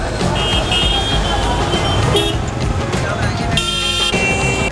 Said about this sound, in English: Honking is like it's like a religion here.